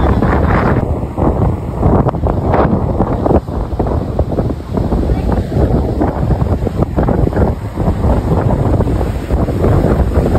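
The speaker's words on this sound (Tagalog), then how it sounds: "malakas talaga ang hangin dito" Strong wind buffets the microphone in a continuous roar, with the rush of sea surf underneath and no voices, at Patapat Bridge in Ilocos Norte, Philippines.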